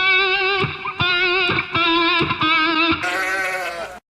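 An electric guitar sustains a distorted note with jerky, rushed, bleating vibrato, broken into about five pulses before shifting to a higher note, loud and alone.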